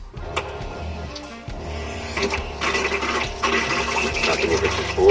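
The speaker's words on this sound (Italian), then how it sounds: "apro l'acqua, nel momento che si apre l'acqua parte la pompa" Water runs from a camper van's pull-out sink tap, and an electric water pump starts and hums steadily beneath the flow, growing louder toward the end.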